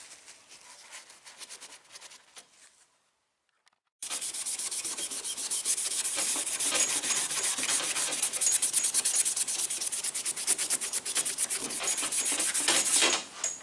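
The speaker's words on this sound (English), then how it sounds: "Just scuff it up so the painter has something to burn to." Hand scuffing of a 1988 Chevy Camaro IROC Z28 door jamb before candy paint, a steady close rubbing and sanding rasp that starts after a brief quiet pause and runs continuously to the end.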